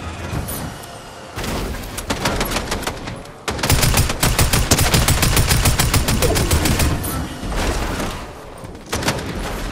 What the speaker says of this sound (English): Gunshots this way.